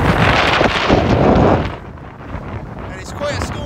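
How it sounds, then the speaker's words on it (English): Strong wind on the coast on a stormy late February day buffets the microphone with a steady, roaring rumble, easing slightly partway through and then gusting again near the end. "It's quite windy here."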